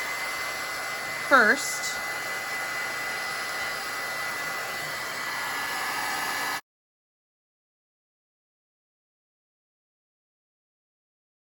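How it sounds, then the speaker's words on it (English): A fine narrow-tipped embossing heat gun blows steadily with a constant whooshing hiss for about six seconds, then cuts off; a brief spoken word is heard near the start. "take your embossing gun, which has a fine narrow tip on it, and heat it up"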